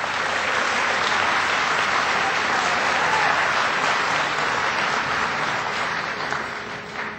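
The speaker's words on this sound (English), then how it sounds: "Please give her a big round of applause." Sustained applause from an audience welcoming Karen Mills, the small business administrator, at a presidential jobs event in Buffalo, steady and dense throughout, tapering slightly at the end.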